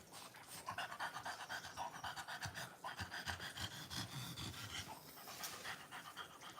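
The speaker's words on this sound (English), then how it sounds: "Nice dog." A dog pants steadily and rapidly for several seconds, loud and close, each quick breath running into the next in an unbroken rhythm with no voices over it.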